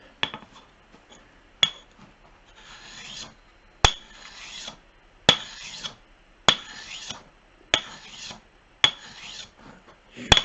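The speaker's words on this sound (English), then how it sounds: "Come back to the anvil, finish that one off with the fine stone." Shear blades rubbed on a fine sharpening stone on an anvil, a steady scraping rasp in repeated strokes, each starting with a sharp metallic tick, close and alone.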